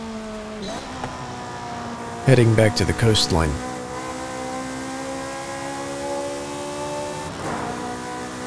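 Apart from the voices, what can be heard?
Ferrari F430 Scuderia engine in video game Forza Horizon 5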